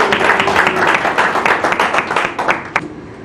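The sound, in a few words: audience applause for award winner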